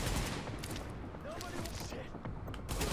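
An M249B light machine gun firing in The Division: dense, rapid bursts of gunfire crackle continuously and loudly, with sharper individual reports standing out through a busy, noisy mix.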